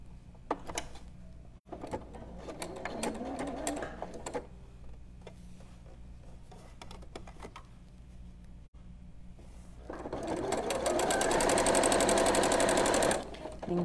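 A sewing machine stitches a Kajaani tuque in short bursts of rapid rattling, then runs in a longer loud continuous stretch near the end, with a voice talking between the bursts.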